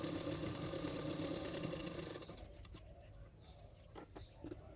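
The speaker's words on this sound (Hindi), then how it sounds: "अभी इसको किनारे किनारे पे सिलाई कर रही हूँ।" Blouse fabric stitched along its lining edge on a sewing machine, a steady dense mechanical whirr that runs strongly for about two seconds, then eases into quieter, intermittent stitching with small clicks.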